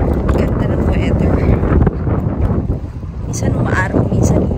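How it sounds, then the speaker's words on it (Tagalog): Wind blows outdoors in a parking lot in Alberta, Canada, buffeting the microphone with a loud, continuous low roar that surges and dips. "So, mahangin."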